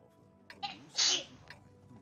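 A single sharp sneeze bursts out nearby, preceded by a short inhaled catch of breath, against a quiet background with faint voices.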